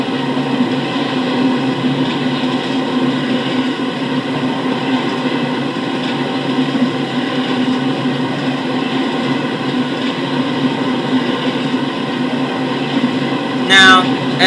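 Steady, loud rumble and hum from inside or beside an Acela passenger train at high speed, a continuous drone with no letup and a short rising squeal near the end.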